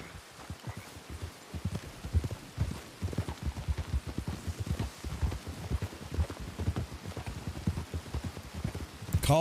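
Horse hooves clip-clop steadily while riding in a Red Dead-style roleplay game, a quick even rhythm of close, fairly loud hoofbeats continuing throughout without talk.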